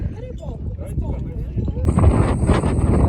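Strong mountain wind on the ascent of Hoverla buffets the microphone with a low, rumbling roar that grows heavier partway through, and speech comes through faintly beneath it.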